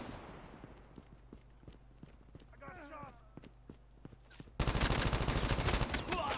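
Rapid bursts of gunfire from the mobile shooter game Call of Duty Mobile crackle in repeated shots, turning into a loud, dense burst of firing near the end over game audio.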